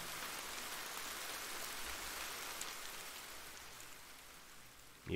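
Steady rain in the Ender Lilies game falls as a constant wash of hiss that fades slightly toward the end, ending with a brief thump.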